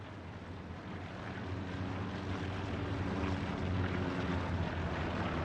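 A recon plane passes overhead in a tank battle video game as a steady, broad airborne roar that swells slightly louder over several seconds, with no speech.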